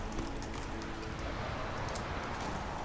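Horse hooves clip-clop in the video game The Witcher 3: Wild Hunt, a steady run of faint hoofbeats set within a dense, noisy game background.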